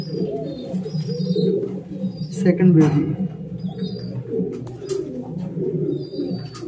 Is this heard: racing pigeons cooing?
yes